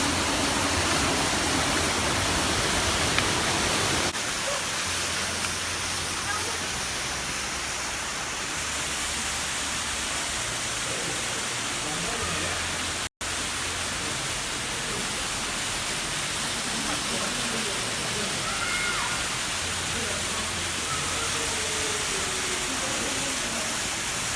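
Constant roaring rush of a waterfall near Taktshang Monastery (Tiger's Nest), Paro, Bhutan, broad and steady, with a faint crunch or clunk in the middle, where ice chunks have been falling.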